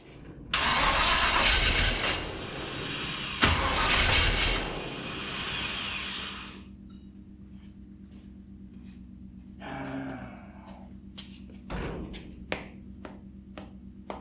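An old car engine with old-school heads cranks loudly and turns over, runs roughly for a few seconds, then drops to a low idle with scattered clicks and a brief rev.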